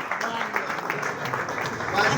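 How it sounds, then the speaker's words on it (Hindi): A crowd applauds at a prize-giving event honoring a teacher, steady clapping of moderate loudness blended with speech from a host. "जोरदार तालियां बजानी है जी"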